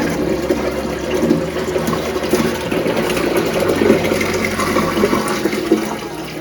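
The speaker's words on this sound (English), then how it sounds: "simply take their container and pour the water into the tank" Water is poured from a small container into a betta fry tank, giving a steady, close splashing and trickling that runs continuously for several seconds with no voices.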